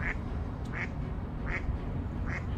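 A duck quacks four times at an even, unhurried pace, each call short and nasal, heard at moderate distance over a steady low background rumble with no voices.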